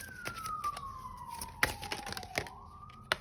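A police-style emergency siren sweeps slowly downward in pitch, fairly distant and steady, with a few sharp clicks and knocks breaking in nearby.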